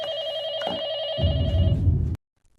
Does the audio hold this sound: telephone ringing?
yes